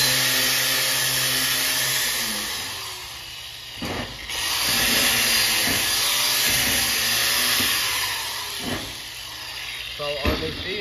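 Flux-cored arc welding on steel that still carries plasma-cut slag gives off a loud, steady crackling hiss, with a few brief pops and dips where the slag breaks up along the bead.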